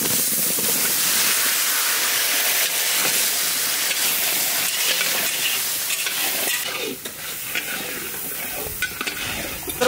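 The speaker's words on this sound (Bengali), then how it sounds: "মশলা কষানো হয়ে গেছে, দিয়ে দেবো আলু।" Potatoes hit a pan of sautéed spices and sizzle loudly, a dense continuous frying hiss with stirring scrapes, close and steady throughout, easing slightly toward the end.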